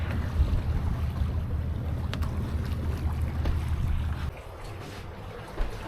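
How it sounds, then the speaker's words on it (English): A sailboat glides over calm sea on a quiet day, giving a steady low rumble of wind and water that softens slightly near the end, with no talking. "Everything's calm and there's almost no motion, so it is beautiful sailing."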